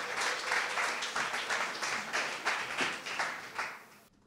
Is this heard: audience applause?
yes